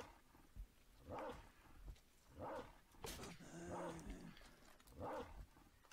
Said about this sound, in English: That wolf is just barking at me.